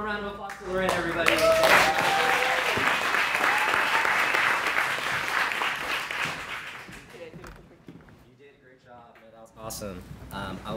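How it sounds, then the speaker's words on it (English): An audience at a live-streamed bio summit claps in sustained applause that swells and then fades, with a host's voice talking over the start. "One more round of applause for Lorraine, everybody."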